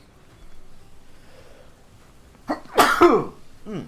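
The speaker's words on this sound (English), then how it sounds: "I'm going to sneeze." A single loud, sharp sneeze bursts out after a stretch of near silence, preceded by a quick intake of breath and trailing off into a brief exhale, from a streamer playing Tropico 5.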